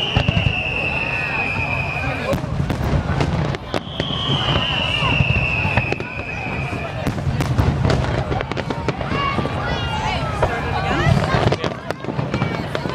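A Target fireworks display outdoors: crackling pops and bangs scattered over steady crowd chatter, with a couple of long rising whistles, continuous and moderately near.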